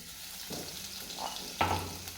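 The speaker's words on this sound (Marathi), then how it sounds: "तेल गरम झालं की जिरे मोहऱ्याची फोडणी टाकायचं आहे" Cumin and mustard seeds sizzle and crackle in hot oil for a sambar tempering, a steady frying hiss with a sharp pop as more goes into the pan.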